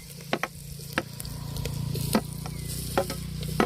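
Onions and tomato frying in hot oil in an outdoor village kitchen, a steady close sizzle broken by several sharp scraping stirs of a spoon against the pan.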